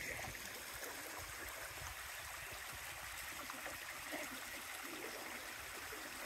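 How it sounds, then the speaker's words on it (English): Creek water on the Allegheny Front Trail babbles and trickles steadily close by, a soft continuous wash with no voices. "enjoy this creek a little more"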